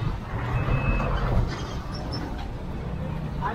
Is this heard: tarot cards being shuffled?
no